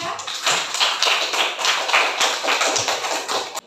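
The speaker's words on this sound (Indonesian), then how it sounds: "tepuk tangan untuk kelompok 3" A class group claps steadily in dense, continuous applause, close and lively, fading out at the end.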